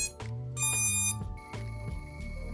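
A 3.5-inch FPV drone emits a series of loud electronic tones during setup, with stepped pitches and short pauses between them, heard close and with no talk.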